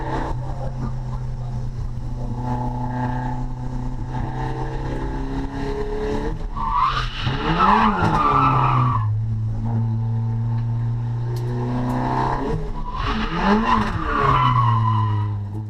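A car drifting on a race track at a track day, engine revving hard and held at steady high pitch while tires squeal and skid in long bursts through the corners, loud and continuous with no talking.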